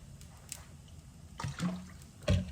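Water poured indoors, a few quiet splashy bursts and trickles building toward the end, close but soft, with no talking.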